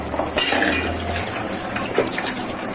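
Boiled rice for mutton biryani being drained, its cooking water poured off in a steady rushing splash with a slight gurgle, close and fairly loud, alone without talk.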